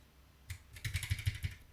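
Quick, light keystrokes on a computer keyboard, a short burst of about six clicks typed close to the microphone after a moment of quiet.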